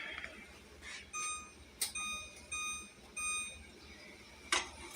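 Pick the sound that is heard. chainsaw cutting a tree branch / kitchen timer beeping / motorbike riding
kitchen timer beeping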